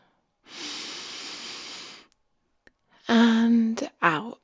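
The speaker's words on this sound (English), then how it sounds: "Let's take a big, deep breath together." A slow, deep breath drawn in and let out, guided during a calm bedtime story session: a long, soft airy inhale, then a short pause, then a breathy exhale with a faint voiced edge, close and quiet.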